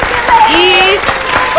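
A television studio audience gives a brief, loud burst of applause for the pop group EXID, steady clapping heard under a host's voice.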